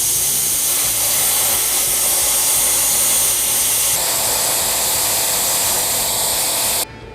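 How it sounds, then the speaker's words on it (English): A small, inexpensive plasma cutter slices through a 36-inch length of 3/8 inch steel plate in one pass, giving a loud, constant close hiss that stops abruptly near the end. "cheap little plasma cutter, but it sure seems to work"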